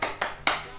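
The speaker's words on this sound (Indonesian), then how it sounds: "ayo kita tambah semangat kita dengan tepuk semangat dulu yuk" A primary school class claps a short rhythmic spirit clap in a classroom, with a few sharp, evenly spaced claps sounding fairly faint.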